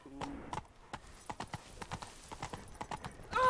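Roach's hooves clop in The Witcher 3, a run of distinct, evenly spaced hoof strikes at close range against a quiet background, ending in a brief louder sound.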